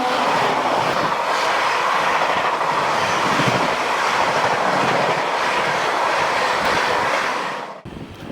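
Steady, loud rumble of a train running on rails, heard from inside a rear coach, with continuous wheel noise and faint clatter throughout before it briefly drops away near the end.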